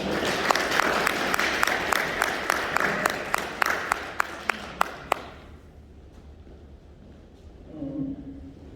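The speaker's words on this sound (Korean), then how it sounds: "뜨거운 박수 부탁드립니다" Audience applause at a Seoul Milk Ansan plant labor union leadership election rally: a dense wash of clapping with a few louder sharp claps, dying away after about five seconds into near silence with a faint voice at the end.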